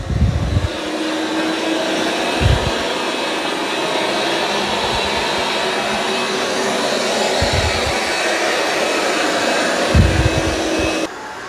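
Steady, loud whirring drone of a Dreame robot vacuum working over carpet, continuous with low bumps and knocks as it moves, cutting off abruptly at the end.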